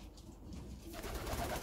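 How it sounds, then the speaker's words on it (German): Kiebitz pigeons near the end of their moult coo softly in a loft, a faint, low murmur of calls with no talking. "Aber trotzdem schöne Tauben."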